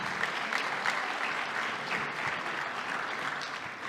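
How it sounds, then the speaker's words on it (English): Steady, dense applause from an awards-night audience, a continuous wash of clapping hands at even volume. "let's have a big round of applause for all of our alumni"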